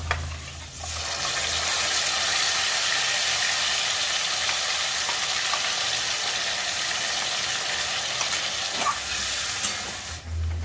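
Spice paste hits a hot pan with fried fish and potatoes, setting off a loud, dense, continuous sizzle that holds steady for about ten seconds.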